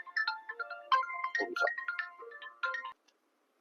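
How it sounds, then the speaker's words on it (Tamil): A mobile phone ringtone from an incoming customer call plays a bright, repeating melody at moderate volume, with a brief voice speaking over it near the middle before the tone cuts off. "ஒரு கஸ்டமர் கால் பண்றாங்க போல"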